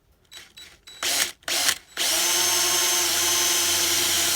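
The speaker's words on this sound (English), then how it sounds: "So let me go ahead and start drilling real quick." A power drill bores holes for mounting a flat LED taillight on a converted school bus, starting with a few short bursts and then running in one steady, loud, continuous whine.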